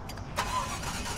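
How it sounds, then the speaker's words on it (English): A Maserati MC20 engine fires up from its start-stop button, a short burst of starter and catch settling straight into a steady, fairly loud idle that fills the rest of the brief moment. "Put on the brake, start stop button."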